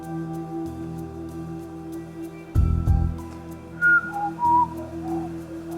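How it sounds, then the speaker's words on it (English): A man whistles a few short, bright notes from close by during a live poker match broadcast, set over a steady electrical hum with a brief low thump just before the whistling. "I'm not sure what to say when he whistles"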